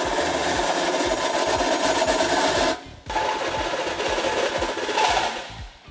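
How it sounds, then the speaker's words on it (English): A tool enlarges the inner hole in a bumper beam bracket on a 2010 Ford Taurus during a trailer hitch install. It makes a loud, rapid, rhythmic mechanical chatter close by, with a brief pause midway before it resumes. "we will enlarge the inner hole on both bumper beam brackets"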